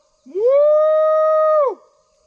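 A cow bawls in a pasture during a morning herd check, giving one long, drawn-out moaning call that rises, holds steady and falls away. It is loud and close, with nothing else heard.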